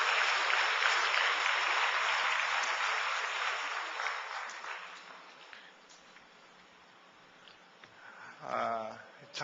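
A church congregation applauds the worship team during a service, a dense burst of clapping that fades gradually over several seconds before a brief voice and a short rise of other sound near the end.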